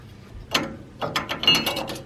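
Ratchet wrench clicking in short bursts while working on a Kawasaki KRX 1000 side-by-side, three close mechanical ratcheting strokes with brief pauses, no talking.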